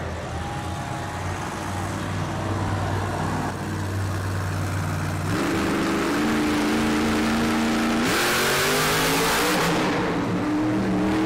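Gravedigger monster truck at a Monster Jam freestyle event in Toledo, its big engine revving loudly in rising and falling surges, climbing sharply in pitch toward the end, heard over an arena backdrop.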